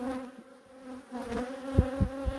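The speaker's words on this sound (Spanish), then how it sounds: "De ahí van a ir las abejas libando" Honeybees buzzing around a hive entrance feeder set up to carry a colony through winter, a steady close drone with a few louder passes as individual bees fly near.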